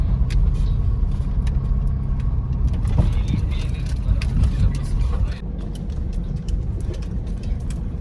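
A car rumbles past nearby on a road in Tanay, a broad engine and tire noise that swells and then eases, with people chatting over it.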